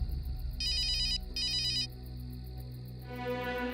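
A phone ringtone sounds in two loud bursts of electronic ringing, each about half a second long, over a sustained tonal bed, and the tone fades into softer musical sound at the end.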